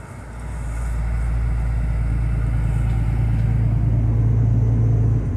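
A loaded VW Meteor 28-460 truck cruises on a highway in eighth gear at about 1,100 rpm, giving a steady, loud low engine drone with a constant tonal hum throughout and no talk.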